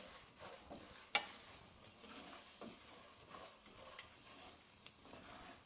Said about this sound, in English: I'm going to take our little spatula again. And I'm going to stir.